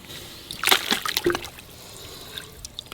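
A whole chicken swished through a pot of roughly 150-degree scalding water to loosen its feathers, giving brief near sloshing and splashing bursts early on, then quieter trickles and drips.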